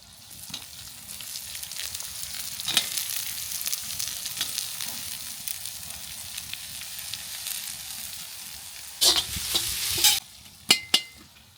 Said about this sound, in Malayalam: നല്ല മണമാണ് ഈ ഇഞ്ചി വെളുത്തുള്ളി ഇങ്ങനെ ഫ്രൈ ആകുമ്പോഴത്തേക്ക്